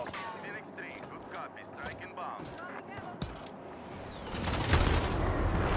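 Airstrike and gunfire in Call of Duty: Modern Warfare, with scattered sharp shots early, then a loud rumbling barrage of explosions building near the end, mixed with game chatter and voices.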